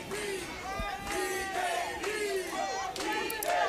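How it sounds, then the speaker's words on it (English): A crowd cheers and shouts continuously at an Illinois primary election event as a candidate arrives, a dense roar of many voices swelling in waves with loud whoops rising above it. "now you can hear people cheering"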